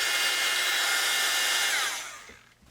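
Hair dryer blowing steadily to dry wet paint on a collage journal page, a loud broadband whoosh that holds for about two seconds, then cuts off and fades.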